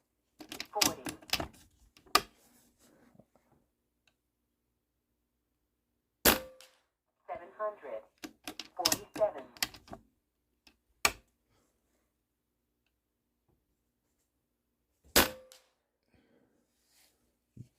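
An Avenge-X PCP air rifle fires heavy slugs over a chronograph, sharp isolated cracks spaced several seconds apart, close and loud, with someone talking quietly between shots.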